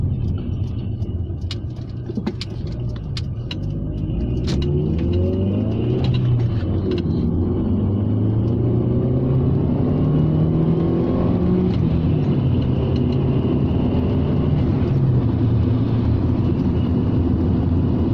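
A turbocharged Rover 600 Ti engine revs hard and climbs through the gears, including a second-to-third shift under boost, a loud continuous roar with rising pitch sweeps, heard close up throughout.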